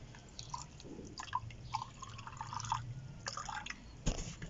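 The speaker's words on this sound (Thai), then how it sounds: "ขั้นตอนต่อมานะครับฉีดน้ำหรือประพรมน้ำให้ทั่วนะฮะ" Water drips and trickles onto potting soil for a variegated banana plant, soft and close, with small irregular splashes and wet taps spread across the recording.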